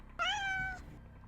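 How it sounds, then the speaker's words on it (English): A pet kitty gives a single clear, rising-then-falling meow, close and alone against a quiet room. "We have a kitty"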